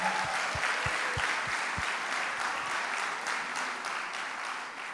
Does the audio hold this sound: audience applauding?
yes